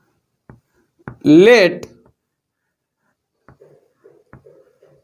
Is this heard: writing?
yes